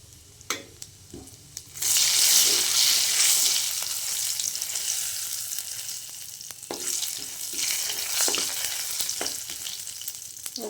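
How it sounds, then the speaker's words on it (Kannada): Chana dal and urad dal fry in hot oil with a loud, bright sizzle that surges after a few opening taps, then settles into a steady hiss punctuated by occasional stirring clicks. "ಇವಾಗೆಲ್ಲ ಚೆನ್ನಾಗಿ ಫ್ರೈ ಆಗಿದೆ ಅದು ಕಡಲೆಬೇಳೆ, ಉದ್ದಿನಬೇಳೆ"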